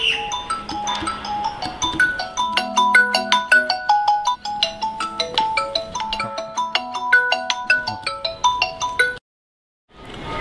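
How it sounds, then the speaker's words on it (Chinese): A melodic electronic phone ringtone plays loudly and continuously for about nine seconds in a home setting, a bright repeating chime pattern that cuts off abruptly near the end. "老公，电话。"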